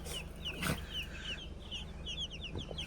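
High, rapid chirps from young chicks, repeated in quick bursts, with a brief louder cluck and faint background noise.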